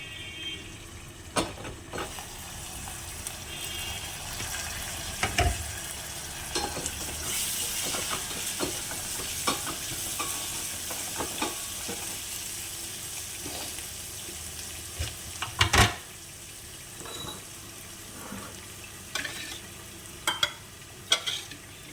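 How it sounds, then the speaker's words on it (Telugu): A masala-stuffed ridge gourd curry fries in a covered pan, giving a soft, steady sizzle with scattered sharp clinks and knocks from the pan and lid. "ఆ బీరకాయలు కొంచెం ఏగటానికి మూత పెడదాం ఫ్రెండ్స్"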